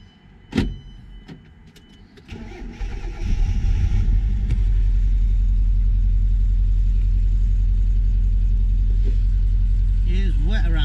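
A car engine on a rusty vehicle with a fuel leak turns over and then runs steadily, loud and close, for most of the clip after a few clicks and a short whir.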